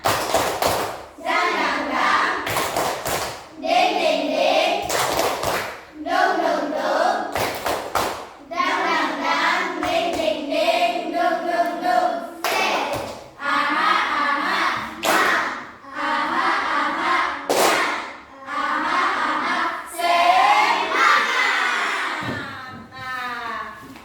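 A primary school class claps the tepuk semangat pattern together, sharp rhythmic bursts of hand claps in short groups with pauses, close and loud, with a teacher's voice and children's voices between the claps.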